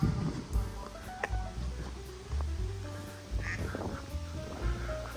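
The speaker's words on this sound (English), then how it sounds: "I wonder what language they're quacking in over there." Ducks quack by a walking route near Hradek nad Nisou on the German, Polish and Czech border. The calls are clear, repeated and scattered, carrying from a moderate distance over faint outdoor ambience, with no one speaking.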